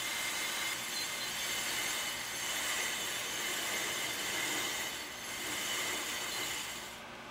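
A Pro-Cut PFM 9.2 DRO brake lathe runs steadily as its cutting head advances across a brake rotor, giving a continuous even whirring hum with a slight dip near the end, no voices.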